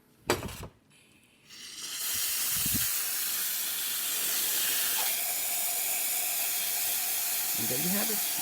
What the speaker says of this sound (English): And now some steam.